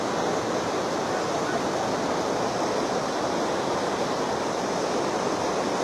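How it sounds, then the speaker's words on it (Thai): Strong flash-flood water rushing through a community in Mueang Daeng, Chiang Rai, a steady loud broadband roar of churning torrent that runs unbroken throughout, with no voices. "น้ำไหลแรงมาก ๆ"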